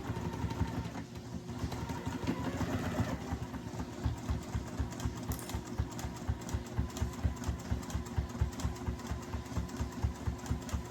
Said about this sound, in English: we're gonna sew right inside that line again, and we're gonna go nice and slow